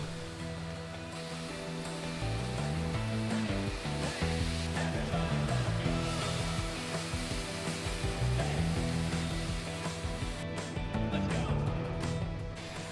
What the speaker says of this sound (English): Beau needs to oxycut a V shape in the plate to give it more surface area for the welding rod to